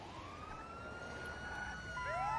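A faint ambulance siren in GTA V roleplay rises and sweeps in the distance, its pitch swooping upward at the end, with no talking.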